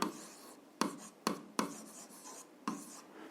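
A pen scratches across paper while an algebra solution is written out by hand, with short bursts of strokes separated by brief pauses. It is close and clear, with no talking.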